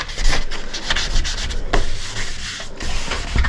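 A uPVC door gets a light sanding before painting, heard as a steady, close, rhythmic scratchy rubbing in back-and-forth strokes with no speech.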